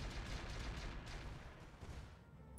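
Mech weapons fire in the battle game RogueTech, heavy booming shots and explosive impacts rumbling together in a faint, dense volley that fades slightly toward the end.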